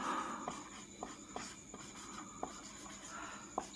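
Pen or marker writing by hand on a board during a Hindi grammar lesson, a soft scratchy scrawl with several short taps and strokes, close and quiet, no talking.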